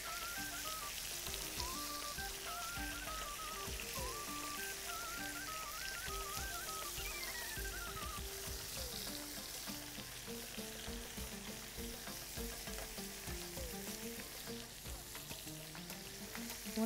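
Meat sizzling steadily in a pan with flour dusted on, a dense continuous fry with scraping stirring sounds throughout, close and fairly loud.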